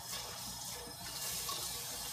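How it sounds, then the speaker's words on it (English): Tap water pours steadily into a pot of rice being refilled for cooking, a continuous close gushing splash that holds at even loudness throughout with no voices. "you're gonna fill it up with water again"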